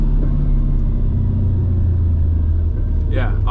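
Supercharged M113 V8 of a Mercedes C55 running at a low, rough rumble that holds steady close by, with a brief rise near the end; someone talks over it.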